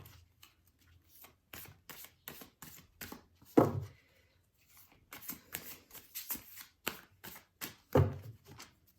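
Unicorn oracle cards being shuffled by hand, giving a run of brisk papery riffles and flicks in short bursts with a few louder slaps, close and alone with no talk.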